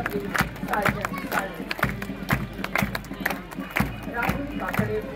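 Applause for a women's rural police platoon at a parade on the Nashik police parade ground: a crowd's sharp, uneven claps ripple throughout, moderately distant, mixed with voices and murmuring.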